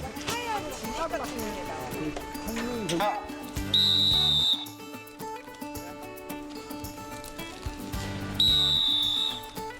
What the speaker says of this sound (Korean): 힘찬 호루라기 소리와 함께 경매가 시작되고